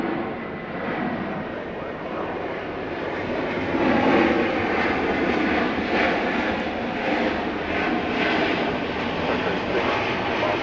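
A jet airplane takes off from Atlanta airport at night, its engine roar steady and loud, swelling slightly as it builds power, heard from a distance with a broad rushing tone.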